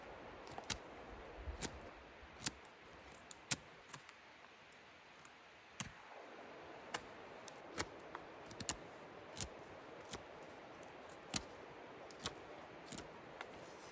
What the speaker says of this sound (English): Just a piece of willow, we'll see how it does on cutting.